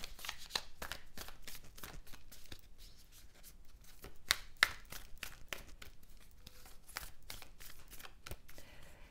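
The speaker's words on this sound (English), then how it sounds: "Okay, I'm going to pull 2 more cards here." Tarot cards being pulled and shuffled by hand, a quiet run of crisp riffling flicks and soft taps repeating at an uneven pace with no talking.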